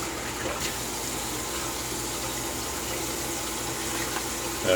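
A double-edged safety razor with a Gillette Silver Blue blade is rinsed under a running tap, giving a steady, even rush of water throughout with no voices.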